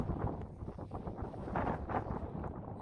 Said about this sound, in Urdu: تیز ہوا چل رہی ہے